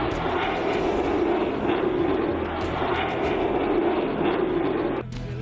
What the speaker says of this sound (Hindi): तेजस सुखोई सने कई होर हवाई जहाज़ां ने एयर शो च हिस्सा लिया।